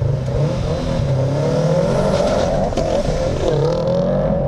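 Sports car launching hard from the start, a loud, close engine roaring steadily under full throttle with the pitch climbing through the revs; Toyota MR2 V6 or Subaru Impreza WRX STI.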